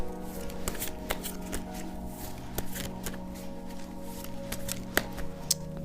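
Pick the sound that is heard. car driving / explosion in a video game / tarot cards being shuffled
tarot cards being shuffled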